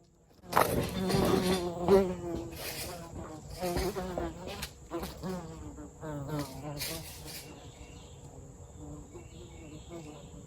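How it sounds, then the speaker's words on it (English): A bee buzzing inside a garage, a steady close drone with harmonic bands that carries on for several seconds as it hovers near, while faint speech sounds pass underneath. "So I know y'all heard that. That's that bee."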